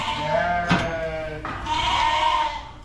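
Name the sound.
sheep (ewes) bleating during lamb weaning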